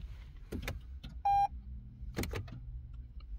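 A car's electronic parking brake motor whirs in two short, faint bursts, separated by a single sharp electronic beep, with soft clicks around them in a quiet setting.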